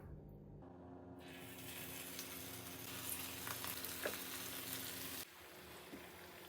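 Potato pieces dropping into hot oil in a pan, a steady loud sizzle that swells suddenly after a quiet start and holds, then drops back near the end.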